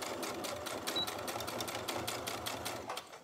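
A home sewing machine runs steadily through ironed, unpinned fabric while a large zippered project bag is made, with a continuous close-up motor whir and rapid stitching rhythm and no voices.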